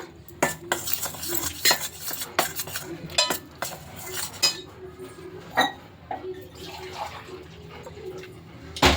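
A spoon stirs and scrapes fenugreek laddu ingredients in a metal vessel, with repeated sharp clinks and knocks at an uneven rhythm, close and fairly clear over a quiet background.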